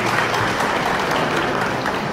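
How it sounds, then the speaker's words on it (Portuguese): Steady, loud crowd applause rolls on without break, many hands clapping together for music ensemble players on stage. "E eu vou pedir aplausos muito especiais a cada um dos integrantes"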